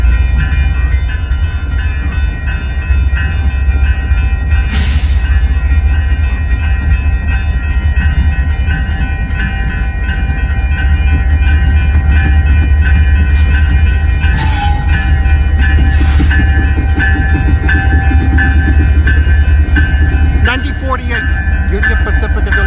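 A Union Pacific locomotive leads a passing freight train in St Paul, Minnesota, producing a loud, continuous low rumble with rolling wheel and car noise and a few brief sharp squeals or hisses throughout.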